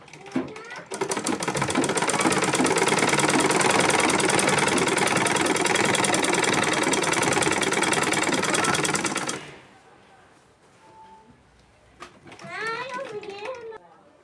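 A sewing machine stitches a lungi in a loud, steady run of rapid mechanical chatter lasting about nine seconds, then stops, leaving a quiet room with brief talk near the end.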